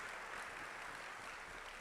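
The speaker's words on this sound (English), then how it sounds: "Let's give her a big round of applause" An audience applauds as flowers are presented to a guest speaker on stage at a spiritual talk in Milpitas, California, producing a brief, even wash of clapping that sounds fairly soft and distant.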